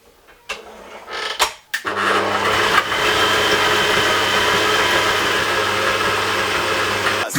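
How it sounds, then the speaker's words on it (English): An electric mixer whisks eggs and butter in a bowl, starting after a few knocks and handling noises, then running with a loud, even motor whine until the end. "now we're going to whisk this"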